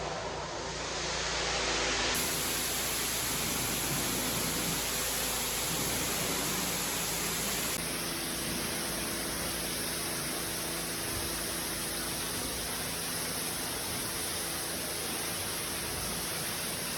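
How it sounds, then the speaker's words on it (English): A pressure washer rinses surfaces inside an industrial building under renovation, giving a steady, loud, broadband hiss of spraying water that runs continuously with no pauses. "now just a quick rinse and then we'll be done and we'll have a look at it."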